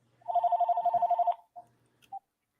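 A telephone rings with a rapid trilling burst, followed by a couple of short beeps, close and clear with no talk over it.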